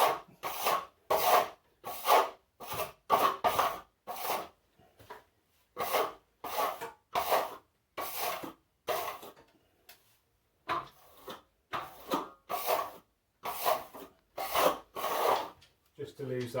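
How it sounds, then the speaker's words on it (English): Steel trowel working wet plaster on a repair above a window, giving close, rhythmic rasping strokes in short repeated bursts with brief pauses between them. "I'm going to work that with the trowel."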